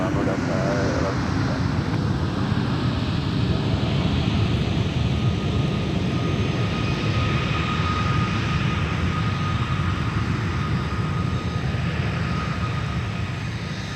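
A Delta Airbus A220-300 airliner arriving at an airport, a loud sustained engine roar with rumbling low end holding steady throughout, voices talking over it.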